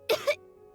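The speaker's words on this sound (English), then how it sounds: "He kept coughing all the time, just like me" Two short coughs in quick succession, close and fairly loud, in the video game Genshin Impact, followed by quiet and the start of another sound at the end.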